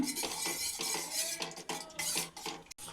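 Homemade cerelac baby food thickening in a pot over a low flame, stirred continuously with a spoon that scrapes and clinks against the metal in a fairly steady rhythm.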